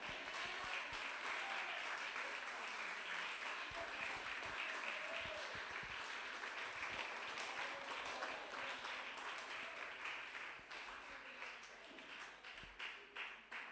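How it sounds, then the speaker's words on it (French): Audience at a youth conference sermon applauding guests, a dense sustained wash of many hands clapping throughout, thinning slightly toward the end. "Nous avons demandé nous applaudir ces invités là encore."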